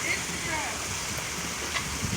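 Heavy rainwater pouring down like a waterfall after hours of rain, a continuous rushing wash of water close by.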